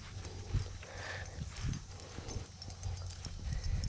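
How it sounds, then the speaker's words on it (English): A mini horse walks outdoors near a farmhouse and pole barn, its hooves giving soft, fairly regular clip-clops at close to moderate distance over steady background noise. "The mini horse is out."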